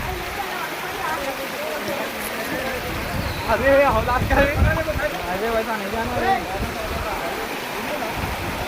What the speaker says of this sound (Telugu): ఒకసారి మీకు దగ్గర వాటర్ ఫాల్స్ ఎలా ఉంటాయని చూపిస్తాను